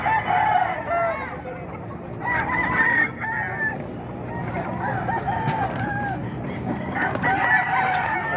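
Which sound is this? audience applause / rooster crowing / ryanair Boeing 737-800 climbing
rooster crowing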